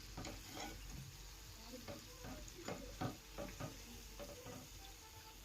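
Mirchi bajji fry in hot oil with a soft, continuous sizzle and bubbling, quiet and close, broken by occasional scraping stirs and light utensil knocks, with no voices.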